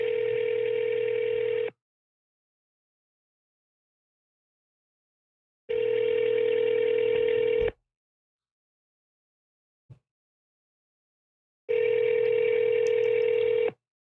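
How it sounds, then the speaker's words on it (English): Phone line rings over speakerphone while calling a toll-free number: three long, loud, steady ringback tones separated by silent gaps, with a faint click between them and no voices. "It's ringing."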